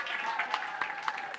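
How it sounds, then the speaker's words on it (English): Audience applause at a tech talk, a steady crowd clapping with a voice faintly present beneath it. "Let's give them a round of applause once again."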